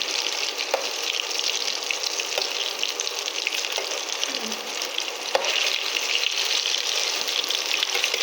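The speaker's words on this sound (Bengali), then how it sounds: "আমি সব উল্টে পাল্টে আমি লাল করে ভেজে নেব।" Chicken pieces fry in hot oil for a Bengali chicken curry, giving a steady, dense sizzle throughout with a few faint clicks of stirring, loud and close with no voices.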